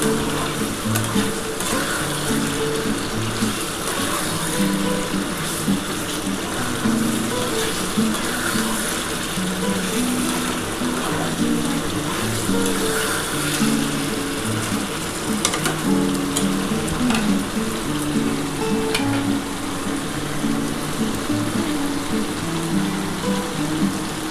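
Eggs sauté with spice masala in a pan, producing a loud, unbroken sizzle and crackle close up, with scattered small pops throughout.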